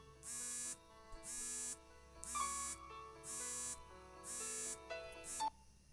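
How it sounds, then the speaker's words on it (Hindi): An electronic alarm beeps in five or six evenly spaced bursts, a repeating tone pattern that stops abruptly, heard alone at moderate volume indoors. "अलार्म।"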